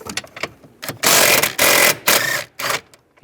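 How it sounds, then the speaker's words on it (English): Ratchet driving a 15mm socket while removing bolts during EVAP core replacement on a 2007-2013 Chevrolet Silverado, heard as several loud, close bursts of rapid clicking separated by short pauses. "Now I'm going to use a 15mm socket."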